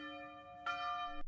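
A hand bell rung during morning puja at a temple gives a sustained, shimmering metallic ring, freshly struck partway through so the tone brightens and swells before cutting off abruptly.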